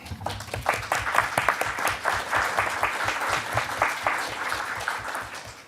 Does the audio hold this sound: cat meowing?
no